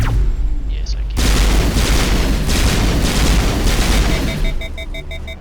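Dense, continuous gunfire from the sci-fi shooter Mass Effect, loud and sustained after a sudden start, with bursts layered over booming impacts and faint beeping tones near the end.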